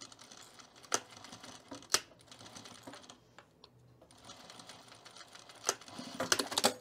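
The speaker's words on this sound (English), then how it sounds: "we're just gonna stitch right here in this neck band, making that seam allowance stay there" A sewing machine stitching the neck band of a Lisbon cardigan, fast rattling bursts of stitching with short pauses and a few sharper clicks, close and moderately quiet.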